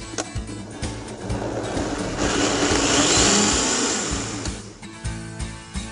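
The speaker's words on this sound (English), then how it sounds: "the chef transfers the soup into a blender to give it a perfectly smooth texture" A high-powered blender purees soup, its whir swelling to a loud, steady roar midway before easing back down, with no talk over it.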